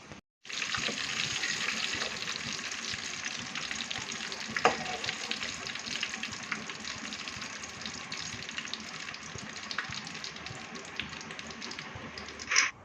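Whole brinjals fry in hot oil for a stuffed brinjal masala curry, making a loud, dense, steady hiss that runs almost without a break, with a few faint clinks.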